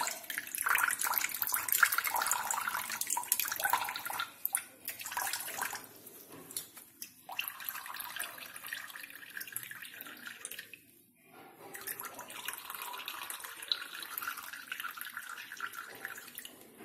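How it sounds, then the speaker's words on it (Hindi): Water splashes and trickles, with wet squelching as soaked rice is squeezed and drained, steady and close for several seconds. "इसका पानी मैं पूरा अच्छे से निचोड़ दूंगी ताकि चावल बिल्कुल भी गीले ना रहे,"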